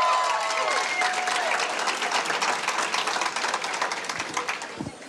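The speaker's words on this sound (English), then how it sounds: "I want you to give a round of applause to Ed Perlmutter for the amazing job he did" An election night crowd claps and applauds loudly for the whole stretch, a dense, sustained wash of clapping that gradually thins toward the end, with some voices mixed in.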